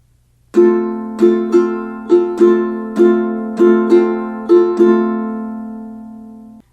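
A ukulele is strummed in a steady pattern of eight bright chords at the tempo of a song, ringing out between strokes, up close with no voices.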